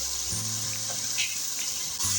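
Cubed potatoes and whole small green chillies frying in hot oil in a pan give a steady, close sizzle, with a low background hum that drops out briefly.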